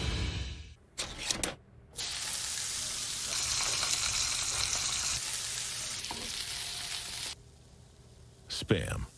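Spam sizzles loudly and steadily in a hot frying pan for several seconds, with brief scraping or stirring sounds before and after.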